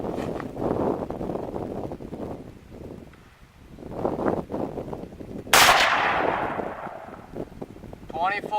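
An 8mm Mauser rifle fires a Hotshot 170 grain FMJ round outdoors, a single sharp loud crack midway that rings off into the distance, with someone talking before it and wind rumbling on the microphone.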